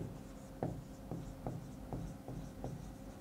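Chalk or marker strokes on a board during an engineering surveying lecture about compass types, a series of short scratchy taps about every half second over steady room hum, with no talk.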